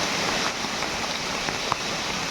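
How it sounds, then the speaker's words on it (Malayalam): Heavy rain pours down in a forest, a dense, steady hiss of drops striking leaves and ground with a few faint individual patters, continuous and even throughout with no voices. "ഒടുക്കത്തെ മഴയാണ്"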